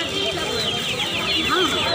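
Chickens cluck and chatter continuously and close by at a busy poultry market in Magrahat, West Bengal, with people talking in the background.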